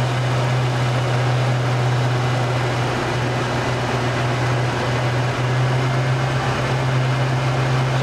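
A 1990 Ford Bronco 5.8L V8 engine being restarted, running with a steady low hum and drone throughout, fairly loud and close, with no voices.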